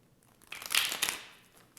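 Tarot cards are shuffled in a brief papery riffle and crinkle, close and quiet, lasting about a second with no talking.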